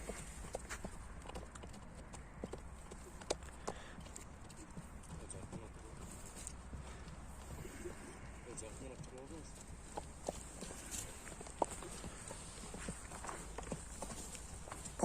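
A horse walks along, its hooves striking in a faint, steady clip-clop, with scattered sharper hoof knocks through a low ambient hiss and occasional voices.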